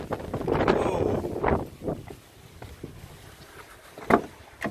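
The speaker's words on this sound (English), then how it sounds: "This wind is wild today" Strong wind blowing outdoors during rust repair work on a BMW E39, heavy gusty buffeting against the microphone in uneven surges, loud and close, rising again near the end.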